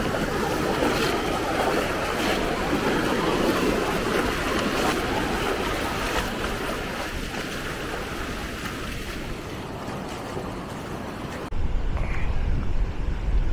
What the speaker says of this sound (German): So, wir haben schöne Wellen hier draußen